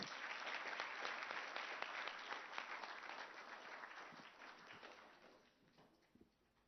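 Applause at the East African Business Summit in Rwanda as Dr. Richard Sezibera is welcomed, a full crowd clapping steadily and then tapering off, with a few scattered claps left at the end.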